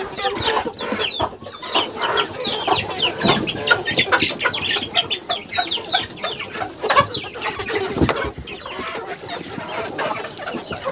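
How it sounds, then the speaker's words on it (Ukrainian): Several chickens cluck and chatter continuously nearby, overlapping busy pecking sounds with no talking. "Там їдять курчатка."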